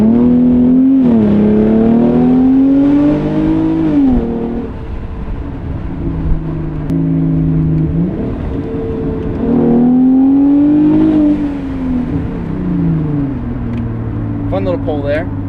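A Hyundai Genesis Coupe of 348 horsepower, with a low front right tire, accelerates on a drive; the engine drones loudly from inside the cabin, rising in pitch through the gears with brief dips at shifts.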